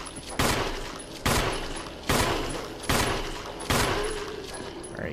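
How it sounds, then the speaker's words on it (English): Five evenly spaced single gunshots from a handgun in the Resident Evil Remake game, each a sharp loud crack followed by a decaying echo, fired at a steady pace of about one per second. "I didn't really need to shoot him that many times"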